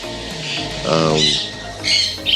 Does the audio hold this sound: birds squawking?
yes